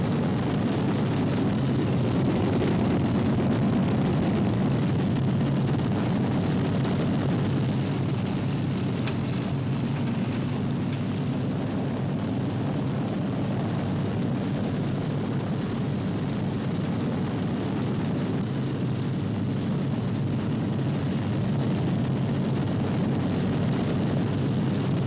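Many bomber aircraft with propeller engines roar together in a thick, unbroken, fairly distant drone as they take off for a thousand-plane bombing raid from an English airfield, with no talking.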